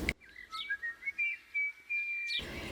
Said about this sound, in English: Annie whistled happily as she walked briskly down the road.